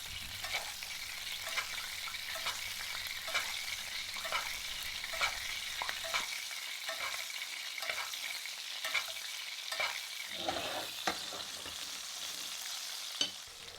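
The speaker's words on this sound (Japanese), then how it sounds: "この時でもなるべくアロゼ、骨の部分にアロゼしていきます。" A bone-in ribeye sizzles steadily in a pan while fat is spooned over it, with repeated soft clinks and scrapes from the basting spoon against the pan. The sizzle is close and moderate.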